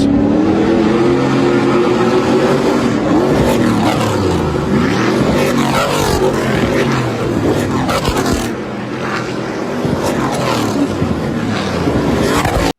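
Stadium Super Trucks race with loud roaring engines that rev up and down in sweeping pitch changes as several trucks pass. The racket is continuous and close, then eases slightly near the end.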